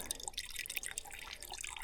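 Water drips steadily from a camping water filter outdoors, a run of small, faint, irregular drops with no voices.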